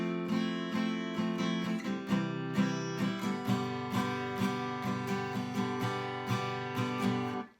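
Acoustic guitar strums a song's rhythm pattern at full speed, steady rhythmic down and up strokes with percussive chucks, close and clear, no talking.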